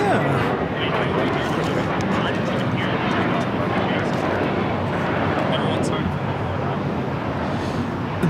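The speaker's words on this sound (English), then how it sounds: "This takeoff is American Airlines 1672, taking off to Dallas, Fort Worth on an A321" American Airlines Airbus A321 taking off at LAX, a loud continuous roar of jet engines that holds steady throughout, with voices talking over it.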